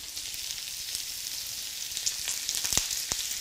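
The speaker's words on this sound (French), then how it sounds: "je vais colorer mes pommes de terre en les remuant toutes les minutes" Potato pieces sautéing in butter over high heat in a pan, a steady close sizzle with occasional sharp crackles and pops growing toward the end.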